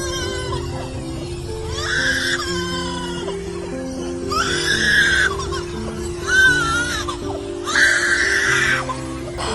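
A superb lyrebird mimics a crying baby, uttering four separate wailing, rising-and-falling cries spaced a couple of seconds apart, fairly close and clear over soft background music.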